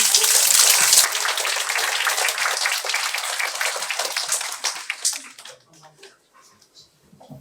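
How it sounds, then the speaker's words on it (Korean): An audience at an academy student meeting applauds to welcome a guest speaker. The dense, close clapping lasts about five seconds, then thins out and dies away to near silence. "박수로 환영해 주세요"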